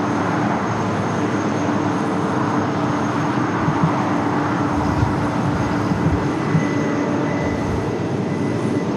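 A loud, continuous low roar fills the scene as heavy airliners such as Air France and KLM arrivals operate at LAX. The rumble is broadband and steady throughout, with no voices heard.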